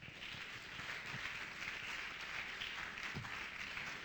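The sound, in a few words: church congregation applause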